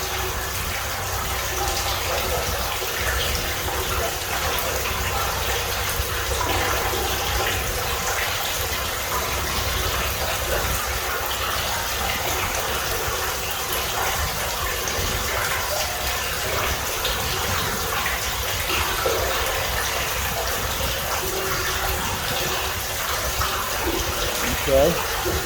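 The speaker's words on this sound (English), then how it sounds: "I'm gonna go ahead and pump it on down some more though." A lift station pump draining water, a continuous loud rushing, gushing flow that holds steady throughout, with faint talk underneath.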